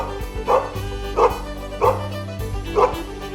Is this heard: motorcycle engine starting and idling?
no